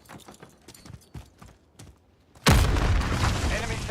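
A frag grenade explodes in a Call of Duty shooter game: a sudden loud blast that bursts in partway through and rumbles on, following a run of scattered footsteps and clicks.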